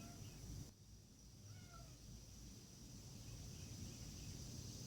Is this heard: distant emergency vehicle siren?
no